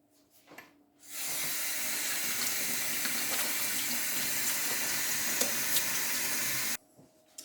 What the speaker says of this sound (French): ne pas oublier de se laver les mains